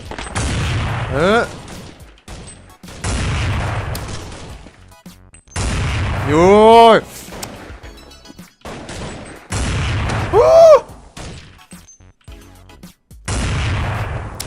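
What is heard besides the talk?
gunfire from a video game on a server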